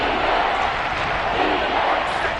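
Dense, steady roar of a football stadium crowd at a Chargers vs Saints game building ahead of a big third down, a continuous broad wash of cheering voices with no breaks, loud and diffuse throughout.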